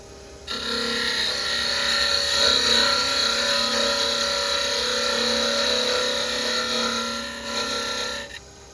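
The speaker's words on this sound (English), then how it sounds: "if you have the beading tool, you might as well use it" Beading tool cutting a bead into a spinning wooden top on a wood lathe, a steady loud whirring and scraping hum that holds evenly for several seconds, then stops.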